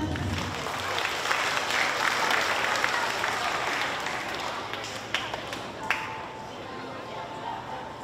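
Applause from an audience at a primary school choir performance, a dense steady patter of clapping filling the room for several seconds, with a few sharper taps near the end and faint voices beneath.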